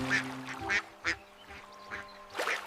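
Cartoonish duck quacks in a children's nursery rhyme about five colorful ducks, several short nasal calls in an uneven sequence over a soft musical backing.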